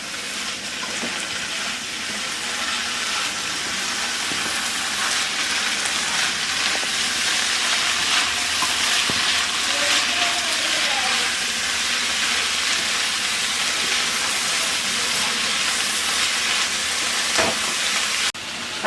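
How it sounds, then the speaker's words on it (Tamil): Drumstick leaves being sautéed for a poriyal give a steady, dense sizzle and crackle from the pan, like light rain. The sound holds even throughout, with occasional faint clicks and no talking. "கொஞ்ச நேரம் வதக்கி ஒரு 2 நிமிஷம் இதுலயே வதக்கிறோம்"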